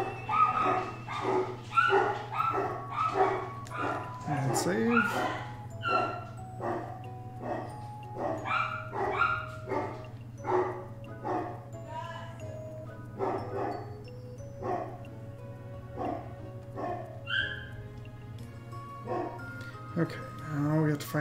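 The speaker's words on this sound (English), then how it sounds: "Of course the dogs are going crazy." Dogs bark and yip excitedly in the video game Wild ARMS, a busy run of short barks throughout, mixed under steady background music and a person talking over it.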